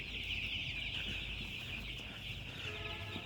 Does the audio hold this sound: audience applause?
no